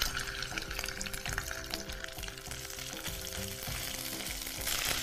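Ginger-garlic paste frying in hot oil gives a steady, close crackling sizzle that runs unbroken throughout, with no voices.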